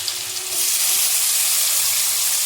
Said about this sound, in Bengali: তো বন্ধুরা দেখো, আলু ভেজে নেব আজকে।